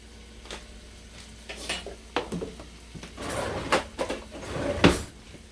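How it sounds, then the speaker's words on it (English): Minced garlic stirred in a heated skillet with a non-metal utensil, giving irregular scraping and clattering knocks against the pan, louder toward the end, with soft sizzle beneath and no talk. "Let me stir this on around."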